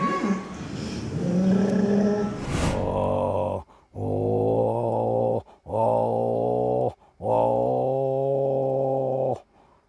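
A voice imitates two dogs growling at each other: a rough, low snarling run, then three long harmonic growls separated by short breaths, close and loud.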